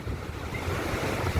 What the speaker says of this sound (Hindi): ये जो है समुद्र जो है, अरब सागर जो है हिलोरे ले रहा है।